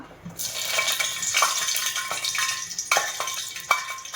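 Hot oil sizzles steadily with sharp crackles and pops as a bay leaf drops into the pan, close and fairly loud, with no talking.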